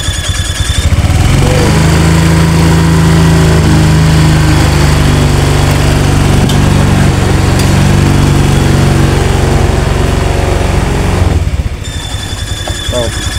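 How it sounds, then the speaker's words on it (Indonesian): A Honda Vario 150 scooter with a squealing noise at idle is revved with the throttle, its engine rising into a loud, sustained high-pitched drone for about ten seconds before dropping back to a quieter idle. "Nah di sini kita coba tarik untuk gasnya."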